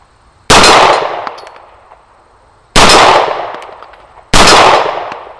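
Three sharp CZ P09 pistol shots ring out against a steel silhouette target, each a loud crack with a bright metallic clang that decays over about a second, spaced irregularly with quiet between.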